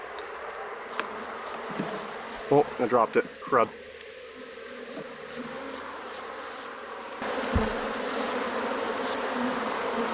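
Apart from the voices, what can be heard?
honeybees buzzing during hive inspection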